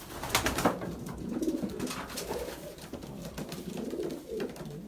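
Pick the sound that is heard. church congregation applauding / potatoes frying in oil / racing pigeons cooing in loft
racing pigeons cooing in loft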